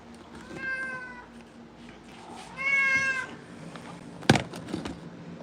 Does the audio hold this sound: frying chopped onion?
no